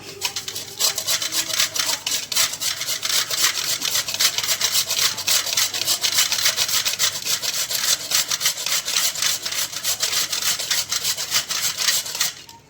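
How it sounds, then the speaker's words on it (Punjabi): Used clay diya lamps are rubbed against the fine side of a metal grater, producing a loud, close, continuous gritty rasp of rapid strokes that runs almost without a break until it stops at the end. "ਇਹ ਬਰੀਕ ਵਾਲੇ ਪਾਸੇ ਨਾਲ ਕੱਦੂਕਸ਼ ਕਰਾਂਗੇ ਆਪਾਂ"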